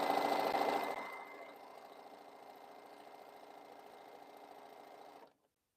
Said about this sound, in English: So we're going to sew all of this up.